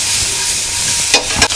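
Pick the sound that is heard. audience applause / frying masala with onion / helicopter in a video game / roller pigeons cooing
frying masala with onion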